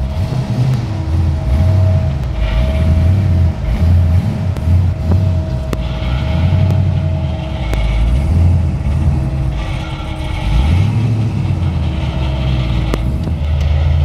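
A supercharged performance car in a private workshop drives past, its engine rising and falling in revs with a droning rumble and supercharger whine, fairly loud throughout.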